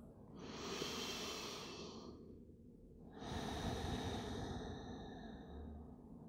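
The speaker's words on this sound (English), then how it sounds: "Huge breath in." A deep, slow breath drawn in and then released during a yoga session in child's pose, close and soft, with a long airy inhale, a brief pause, then a long exhale, and no talking.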